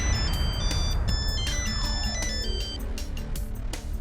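A phone ringtone plays loudly and steadily, a repeating electronic melody of bright tones ringing out with no voices.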